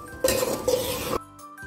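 Boiled chana dal is mixed in a pot, with a spoon clinking and scraping against the metal in a few close, bright strokes, then a brief quieter pause.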